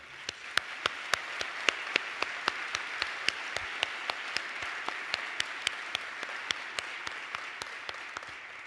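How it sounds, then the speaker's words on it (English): Audience applause at a conference closing ceremony in a room: sustained, fairly even clapping from a sizable crowd with a few sharp, distinct claps standing out near the front, heard alone without speech. "A round of applause for all of them."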